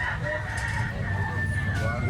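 A young stag rooster, a big yellow-legged gamecock, crowing steadily and loudly up close, with clucking and other fowl noise around it.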